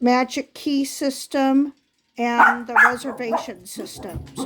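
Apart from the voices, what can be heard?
dog barking in the background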